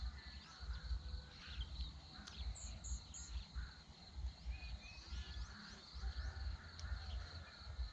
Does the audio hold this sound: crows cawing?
yes